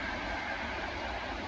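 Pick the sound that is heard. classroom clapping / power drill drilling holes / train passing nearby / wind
train passing nearby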